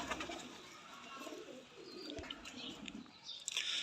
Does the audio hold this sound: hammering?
no